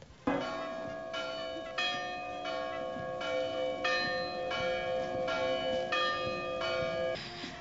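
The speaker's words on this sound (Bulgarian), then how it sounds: "С камбанен звън всички църкви в града възвестяват," Church bells ring across a city, a tolling sequence of resonant strikes with long sustained overtones that hang between each hit, sounding fairly clear and unbroken for several seconds.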